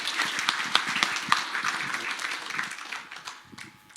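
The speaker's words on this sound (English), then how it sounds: "a round of applause for Māni for making it all the way up here" Audience clapping at a panel discussion after a documentary film screening, a steady patter of hand claps that thins out and fades toward the end.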